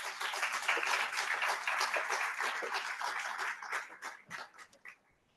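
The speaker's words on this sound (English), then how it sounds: "So big round of applause for all of you." Conference audience applause rises quickly into steady, moderately distant clapping from a sizable crowd, then breaks into scattered individual claps before dying away.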